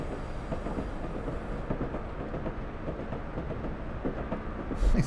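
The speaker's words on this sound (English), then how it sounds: "just listening to the train go off into the distance" Steady rumble of a train pulling off into the distance in Train Simulator 20 on the West Highland Line, with soft rhythmic wheel clatter, a constant moderate level and a brief louder thump at the very end.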